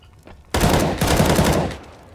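A single loud burst of rapid automatic gunfire in Counter-Strike: Global Offensive begins abruptly after a short quiet lead-in, holds for about a second and then tapers off.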